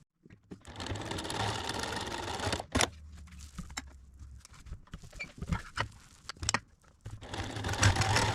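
A home sewing machine stitches the final seam of a fabric potholder, its motor whirring in stretches broken by pauses, clicks and handling noises, close and fairly loud, with no voices.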